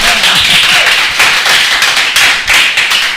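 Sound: applause

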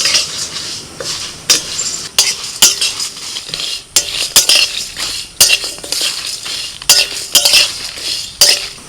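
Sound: dry-roasting spices in a pan for homemade masala

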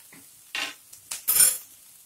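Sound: asafoetida tempering sizzling while stirred and fried in a pan

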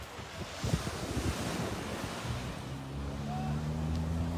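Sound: sea waves at Mondello beach, Sicily

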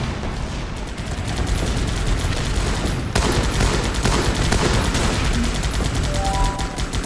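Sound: artillery bombardment and gunfire from video game Guns Up!

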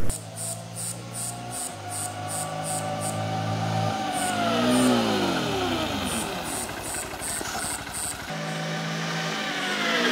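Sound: Honda XRE 190 ABS motorcycle braking test

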